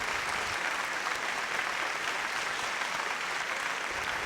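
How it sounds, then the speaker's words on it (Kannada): A studio audience at a Kannada quiz show, held with transport corporation staff, applauds a correct answer with dense, steady clapping that lasts the whole stretch without a break. No one speaks over it. "ಎಲ್ಲರೂ ಚಪ್ಪಾಳೆ ಹೊಡಿತಾ ಇರೋದು ನೋಡಿದ್ರೇ ಗೊತ್ತಾಗುತ್ತೆ ಉತ್ತರ ಸರಿ ಇದೆ ಅಂತ."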